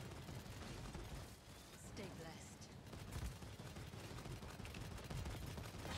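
Gunfire in the video game Paladins, dense rapid mechanical shots and clattering bursts running continuously and fairly faint, mixed under a player's talk.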